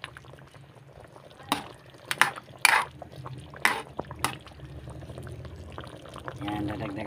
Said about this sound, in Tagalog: dadagdagan natin ang peanut